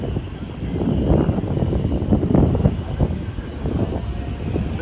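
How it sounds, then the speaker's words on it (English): A Grumman TBM Avenger single-engine World War II warplane runs its engine nearby, a rough, throbbing propeller drone with some wind buffeting on the microphone. "That's a TVM Avenger."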